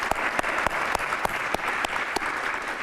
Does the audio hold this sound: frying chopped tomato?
no